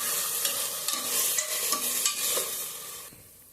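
Ginger garlic paste fries and is stirred in a pan while cooking prawn biryani, giving a steady sizzle broken by several scraping strokes of the spoon before the sound fades near the end.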